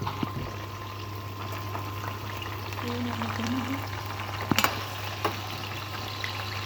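Boiled drumstick pieces sizzle and bubble gently in hot oil for pickle, a soft continuous frying hiss with a few sharp pops and clatters near the middle.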